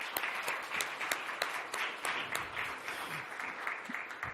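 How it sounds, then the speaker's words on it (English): An audience at a leadership and innovation summit gives a steady round of applause as a panelist comes on stage, dense clapping with a few sharper individual claps standing out throughout. "Let's give her a round of applause"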